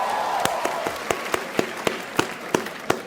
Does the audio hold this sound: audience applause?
yes